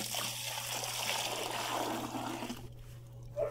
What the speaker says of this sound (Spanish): lo primero que hacemos es introducimos los 4 litros de agua en la cubeta